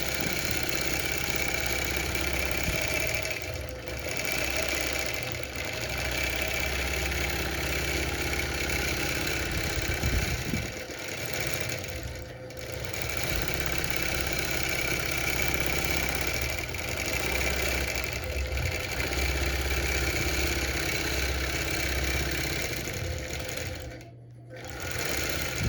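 A longarm quilting machine stitches continuously, its fast mechanical needle drone steady and close for the whole stretch, with only brief dips and no talking.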